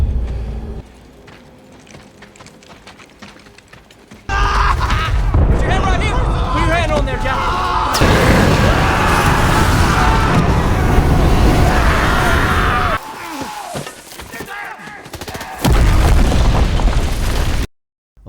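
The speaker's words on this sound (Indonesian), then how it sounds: "Singkat cerita, mereka pun akhirnya berhasil meledakkan bunker Jepang." Explosions and battle noise from the war film Hacksaw Ridge as soldiers blow up a Japanese bunker: loud booms and sustained roaring blasts, with sharp bursts, continuing at high level over several seconds.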